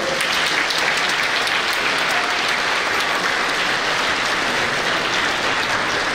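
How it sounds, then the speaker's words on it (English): Steady, dense applause from a school ceremony audience of parents and families at an 8th grade bridging ceremony, loud and continuous throughout with no voices over it. "So I want to ask you to give them a round of applause."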